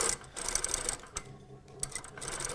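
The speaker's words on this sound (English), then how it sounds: "Back tack, my machine loves back tacking." A sewing machine back tacks along an invisible zipper seam, its needle running in a steady rapid whir with a brief pause midway before stitching resumes, close and alone.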